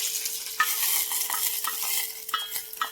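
Liquid hitting a hot pan on a traditional wood-fired clay stove, a crackling hiss with scattered pops and scraping stirs, fairly close and steady across a few seconds, no voices.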